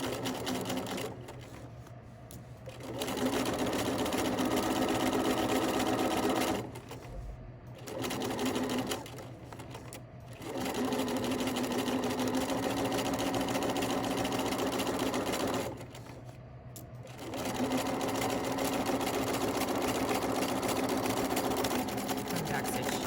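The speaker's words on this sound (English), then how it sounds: "Now I'm going to go ahead and sew, backstitch" A sewing machine stitching an invisible zipper seam at a 5/8 seam allowance for a McCall's 8051 pattern, running in three close, steady whirring bursts with short quiet pauses between, including backstitching.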